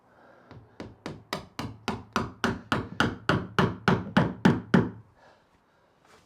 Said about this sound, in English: I'll show you exactly where I'm nailing and what I'm doing.